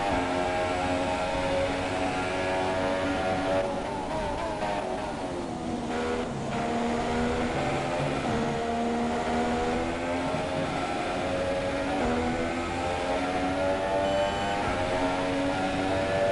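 F1 car engine in the F1 2017 video game, a Sauber at the Italian Grand Prix in rain, droning steadily with shifting harmonic pitch as it runs on, loud and continuous with no talk.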